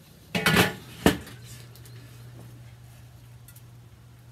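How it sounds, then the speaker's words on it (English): A lid set onto a rotisserie cooker during a pulled-pork roast gives a cluster of metallic clatters followed by one sharp clank, close and fairly loud, then a steady low hum continues underneath. "Okay, we'll put our lid on."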